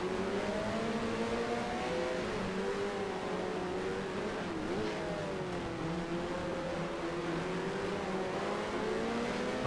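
A race car engine in the F1 Challenge video game, set in the 1974 season, drones loudly and steadily throughout, its pitch wavering as it revs and dips before climbing again, with no talk.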